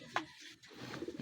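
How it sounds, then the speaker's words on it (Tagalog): Pigeons coo softly at a distance outdoors, a couple of short low throaty calls over a quiet background. "Ito nga yung mga ibon natin mga kalapatid, oh."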